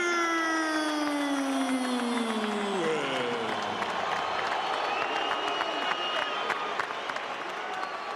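Big boxing crowd at the Staples Center cheering and applauding before a heavyweight title fight, a dense continuous roar of claps and shouts, with an announcer's drawn-out voice ringing over it at the start.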